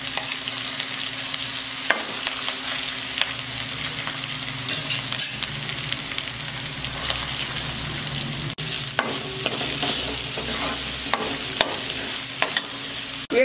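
Onion and chili frying in oil with mustard seeds, garlic and cumin for a dhaba-style dahi bhindi gravy, a continuous close sizzle with frequent scraping stirs, no talking.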